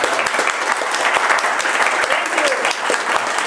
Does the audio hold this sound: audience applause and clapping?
yes